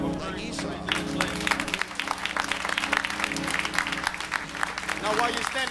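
A church congregation clapping in praise with a guest choir present, lively clapping mixed with voices and organ-like sustained tones, busy and reverberant throughout.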